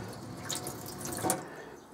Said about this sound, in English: Swivel tap, so you push the tap this way and this way for cold,